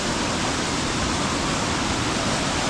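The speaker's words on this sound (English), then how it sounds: "that's the main waterfall, Indian Flats." The Indian Flats waterfall on Middle Prong Trail rushes in a loud, unbroken broadband roar, steady and close throughout with no other sounds standing out.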